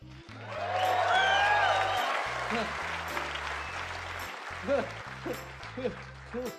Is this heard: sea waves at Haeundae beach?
no